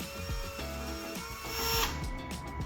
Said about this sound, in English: I use the Dremel to sand off any parts protruding over the back edge